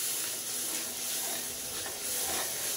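Masala spice paste sizzles steadily in a pan as it is sautéed. The frying hiss is soft and continuous, close by, with no talking.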